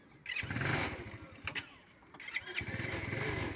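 A semi-automatic sidecar motorcycle built for disabled riders cranks and fires up, its engine catching and revving in short bursts, dropping briefly, then settling into a busy idle close by.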